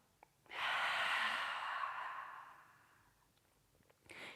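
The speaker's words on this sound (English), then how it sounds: "Nice big deep breath in together through the nose. And exhale through the mouth." A single long, deep breath is let out through the mouth during a yoga session, close and breathy, starting suddenly and fading gradually over a few seconds before a faint new breath begins.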